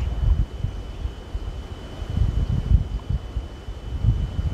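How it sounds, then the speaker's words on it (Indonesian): Strong wind buffets a drone flying near a mountain peak on Gunung Slamet, a steady low roaring rumble with gusty surges throughout and no voices. "Lawan angin lagi teman-teman."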